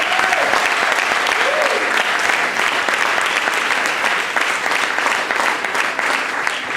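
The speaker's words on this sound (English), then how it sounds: "So please give Peach a round of applause." A crowd applauds Peach at a Workers Defense Project event: loud, sustained clapping from a packed room with some cheering and voices mixed into the steady wash.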